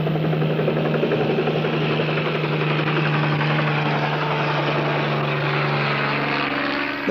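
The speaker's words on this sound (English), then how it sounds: "The helicopter made another turn and came in with my improvised supply base." A helicopter flies steadily nearby, its engine and rotor making a loud, continuous drone with a strong low hum that holds for the whole stretch and never lets up.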